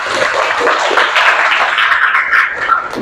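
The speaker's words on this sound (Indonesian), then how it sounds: "tepuk tangan dulu" A classroom of students clapping together in a dense, even burst of applause that holds steady and loud for a few seconds.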